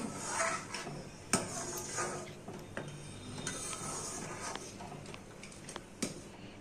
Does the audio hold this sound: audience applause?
no